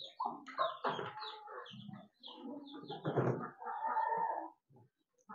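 Free-ranging hens and roosters on a farmyard give several close, irregular bursts of clucking and short calls, with a few brief pauses between them and no talk.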